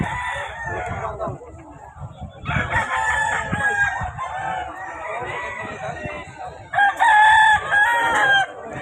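Roosters crow loudly and repeatedly among clucking chickens at a poultry shop in Grotto, San Jose del Monte, Bulacan, several overlapping calls close by with a louder crow near the end and some voices in the background.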